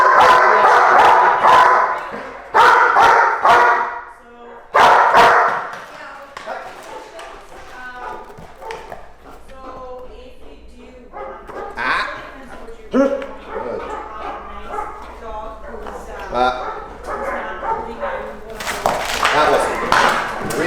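An active retriever barks in loud, sharp bursts during retrieve training, several rapid barks early on and again near the end, with someone talking in between and over quieter stretches.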